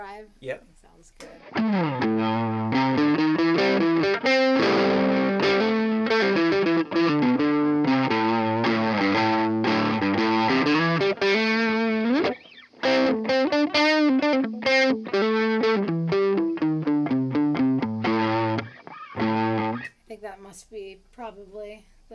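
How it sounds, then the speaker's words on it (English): Electric guitar, a St. Vincent model with mini humbuckers, playing chords and riffs through a crunchy overdrive with chorus shimmer, loud and continuous, pausing briefly twice before trailing off. "I especially like it with the overdrive."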